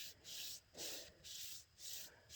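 Hand sanding of wood to a smooth finish, heard as four rhythmic back-and-forth strokes of abrasive paper rasping across the surface, close and fairly quiet.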